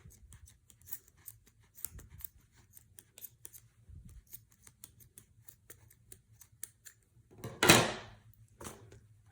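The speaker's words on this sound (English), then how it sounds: "So you see all those loops, I'm going to come through and cut them." Scissors snip through a bundle of yarn loops while making a pom pom, with light clicks and rustles through most of the stretch and one louder, longer cut near the end; no talking.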